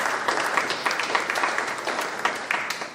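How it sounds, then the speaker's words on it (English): An audience claps for a bowling coach coming up to speak at a SWAC football media day event, dense steady applause of many hands at close range, with no one talking over it. "Give him a big round of applause"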